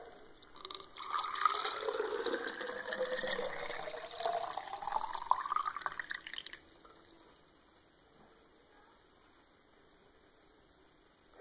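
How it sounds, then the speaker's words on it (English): Liquid pours steadily through a strainer and splashes for several seconds, then stops, leaving a quiet background. "and pour it in."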